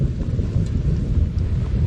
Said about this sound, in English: So the rain has come down,